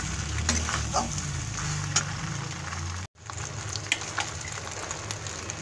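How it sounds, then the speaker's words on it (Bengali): Pasta in red tomato sauce being stirred in a pan gives a steady close sizzle with scraping stir sounds, broken by a brief silent gap midway before the sizzle resumes. "পাস্তাটা ভালোভাবে নেড়ে চেড়ে আমি দিয়ে দিচ্ছি এর মধ্যে টমেটো সস।"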